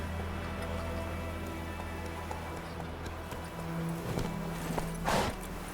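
Hooves of the horse Roach in the video game The Witcher 3, a steady quiet galloping rhythm beneath a low droning game soundscape, with a few louder thuds near the end.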